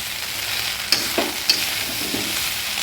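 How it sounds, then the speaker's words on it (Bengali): Flattened rice pulao with fried potatoes being stirred in a wok: soft scraping and sizzling under a few distinct clinks of the spatula against the pan, short and close. "এবার দিয়ে দেবো আলু ভাজাটা। আলু ভাজাটাকে ভালো করে মিশিয়ে নেব।"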